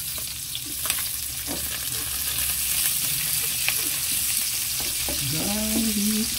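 Garlic sizzles loudly and continuously in hot oil in a pan alongside onion and ginger, with intermittent scraping clicks from stirring and a brief tonal squeak near the end.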